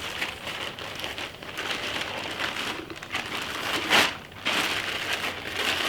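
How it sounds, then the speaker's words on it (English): Plastic bag crinkling and crackling as a leather-hard clay box is put inside it, a steady close rustle with a sharper crumpling burst near the middle. "We'll get this put inside a plastic bag."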